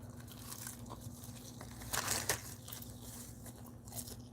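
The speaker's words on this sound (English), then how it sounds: "I have to have a snack." Crunchy snack being bitten and chewed up close, with a few sharper crunches midway over a steady low hum, no talking.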